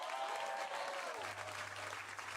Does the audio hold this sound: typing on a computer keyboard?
no